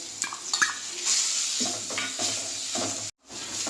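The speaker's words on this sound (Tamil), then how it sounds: "நல்லா இந்த மாதிரி வதக்கிக்கோங்க" Steady stirring and scraping of ground masala paste sautéing in a pan with a soft sizzle of frying, busy clatter of a spoon against the pan, close and continuous apart from a brief break.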